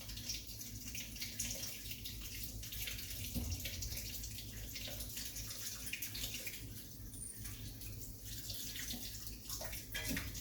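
Water from a kitchen tap runs steadily into a container, a faint continuous splashing rush with no talk over it.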